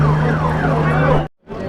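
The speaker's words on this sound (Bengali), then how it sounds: "লক্ষ লক্ষ ভিড়ের মাঝখানে অ্যাম্বুলেন্স চলে এসছে" An ambulance siren wails loud and steady amid a dense crowd at the Puri Rath Yatra chariot festival, its tone sweeping continuously before cutting off abruptly to near silence, then crowd noise returns.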